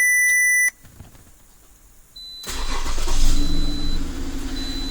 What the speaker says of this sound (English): Now we're going to go ahead and we're going to start our vehicle.